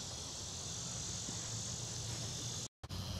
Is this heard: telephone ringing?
no